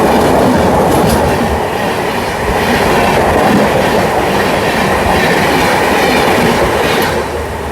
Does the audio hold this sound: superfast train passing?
yes